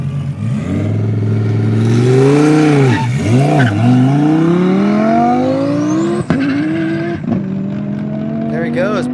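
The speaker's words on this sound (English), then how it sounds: "There he goes, burning tire. He's going for a hot run." A Dallas Performance Lamborghini Huracan roars through rising and falling revs on an airstrip hot run, with loud engine sweeps, a brief dip, and tire squeal. A sharp clack cuts through near the end.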